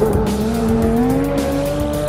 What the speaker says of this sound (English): At full pelt, the 10 cylinders ravish fuel at a rate of 9 miles per every gallon, with leftovers burning at the exhaust.